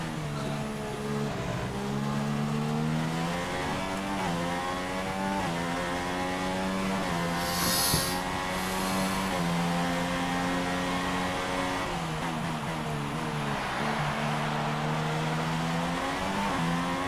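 Formula racing cars roar through a 2016 Bahrain Grand Prix in the Silver Arrow Formula X video game, their high engine notes rising and falling steadily with shifts and passes, loud and continuous for the whole stretch.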